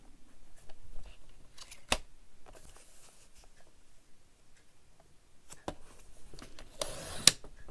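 Scissors cutting paper card, a series of crisp, sharp snips and ticks spaced irregularly at close range in a quiet room.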